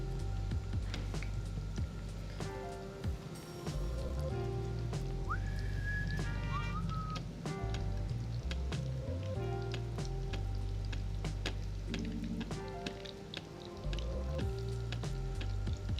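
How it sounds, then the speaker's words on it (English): A breaded chicken cutlet coated in panko fries in hot oil, with a steady crackling sizzle and popping throughout and occasional faint whistling tones above it. "whenever you're frying, shake off the little breadcrumbs and then lay away from you into that"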